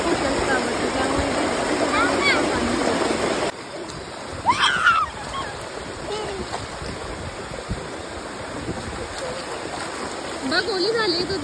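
Rushing water from a waterfall in a scenic natural spot, a steady broadband roar that drops slightly partway through, with a young child's and adults' voices and excited chatter over it.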